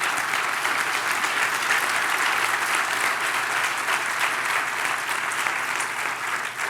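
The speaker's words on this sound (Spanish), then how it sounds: "Den un aplauso al Señor." A church audience gives sustained applause, a dense, even roar of many hands clapping together that holds steady for several seconds and eases slightly at the end.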